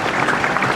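A stadium crowd at a men's Ykkönen football match at Tammela stadium applauds a departing player, a dense burst of clapping that fills the space, with a voice faintly mixed in.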